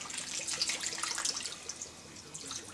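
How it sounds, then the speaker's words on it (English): Two cups of water pour into a crockpot holding a pork shoulder, a soft, brief trickle and splash that fades after a couple of seconds, alone and fairly faint. "Then we want 2 cups of water."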